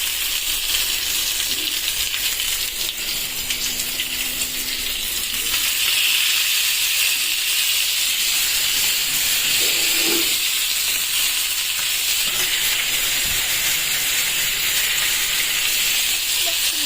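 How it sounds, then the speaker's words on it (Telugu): Meat pieces fry in a pan for mandi biryani, with curry leaves, giving a steady, loud hiss and sizzle that swells midway and runs on without a break. "సో మండీలో పీసెస్ని ఇలా ఫ్రై చేసుకోవాలి."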